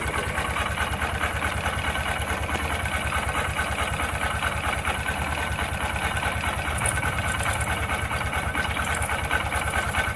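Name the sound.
Honda SP 125 motorcycle engine idling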